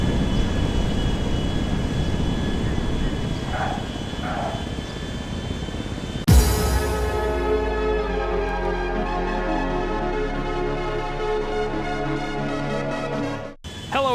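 A Boeing 777-200 airliner mod in GTA 5 with a steady engine roar that shifts abruptly into a brighter, louder whine with layered tonal hum, then cuts out briefly near the end.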